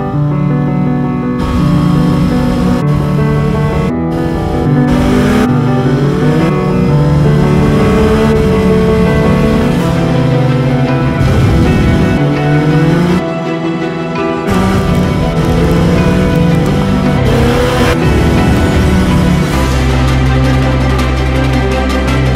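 Yamaha touring motorcycle engine running close and loud, with repeated revs and shifting pitch over a steady rumbling idle, interrupted by brief dips and cuts.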